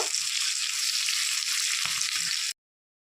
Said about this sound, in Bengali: এদিকে আমার আলু পটল ভাজা হয়ে গেছে একদম লাল লাল করে ভেটে নিয়েছি